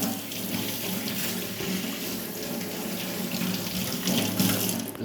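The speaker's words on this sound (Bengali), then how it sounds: "কাঁচা কলাটাকে আমি প্রথমে জলে ভালো করে ধুয়ে নিব।" Running tap water splashes steadily into a sink while a raw banana is washed, a close, continuous rushing flow with no voices.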